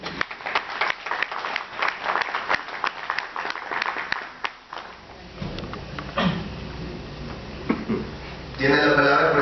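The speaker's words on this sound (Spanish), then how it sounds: "Recibámoslo con fuertes palmas," An audience at a university law faculty debate claps to welcome a speaker, sparse individual claps at first, then the applause fades into room noise and movement, with a voice beginning to speak near the end.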